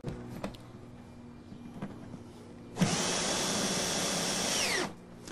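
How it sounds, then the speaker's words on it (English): A power drill drives a toggle bolt into a drilled half-inch hole in a plastic planter container, a sustained loud whirring burst of about two seconds that follows faint clicks and handling noises, then stops abruptly. "So we'll take our toggle bolt, insert it into our 1/2 inch drilled hole, and then we will just simply screw that in place."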